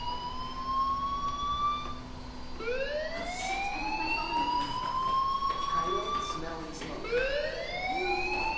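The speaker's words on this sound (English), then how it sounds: "do you hear that fire alarm? That means you should be outside." A school fire alarm in the video game Life is Strange wails as a rising, repeating electronic siren, sweeping upward in loud cycles that fill the whole clip over a steady background.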